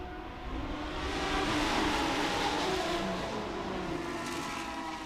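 Race cars tear past at Laguna Seca during a vintage and modern race weekend. The engines swell from a distant drone to a loud, sustained roar, then ease off slightly as the pack moves away.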